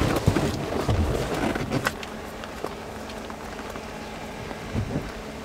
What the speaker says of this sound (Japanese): こういう時に雨降ってるし